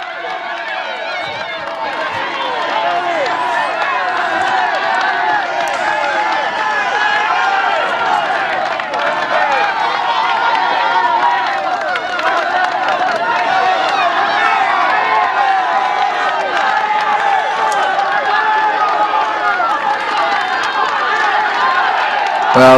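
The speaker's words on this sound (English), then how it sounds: "a massive crowd on the Col du Tourmalet" A massive roadside crowd on the Col du Tourmalet at the Tour de France cheers and roars steadily for over twenty seconds, with dense layered shouting close by and no clear single voice.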